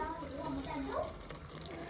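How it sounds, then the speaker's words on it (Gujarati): Water pours steadily into a cooking pot holding gram flour with a continuous splashing rush while a person talks over it. "તો હવે આમાં આપણે નાખશું પાણી"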